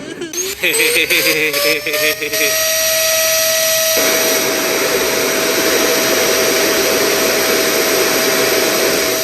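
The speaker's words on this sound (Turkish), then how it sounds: "Süpürgenin havasına yüzümü tutuyorum." A vacuum cleaner blows air with a loud, steady whining roar. A short stretch of pulsing, wavering tones comes before it settles into a constant hum.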